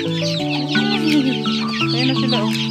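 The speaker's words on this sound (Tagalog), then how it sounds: "Magbahog muna tayo ng ating mga manok." Several chickens cluck and call over one another nearby, a busy overlapping chorus of short clucks and drawn-out tones.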